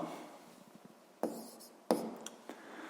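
Pen on paper during a physics lesson, quiet scratching strokes with a few sharper taps as words are written down, heard alone in a hushed room.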